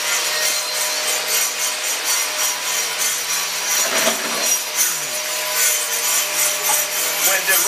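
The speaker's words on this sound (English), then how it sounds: "And when he made that master work, he is polishing." Carved stone is polished with diamond tools at a craft workshop in Mexico City, a loud continuous high grinding whir that stays steady and close, with brief shifts as the tool presses in.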